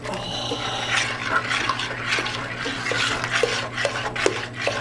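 Chocolate-scented soap batter made with olive oil is stirred in a container, giving a continuous wet swishing and scraping with soft clinks, steady over a low background hum.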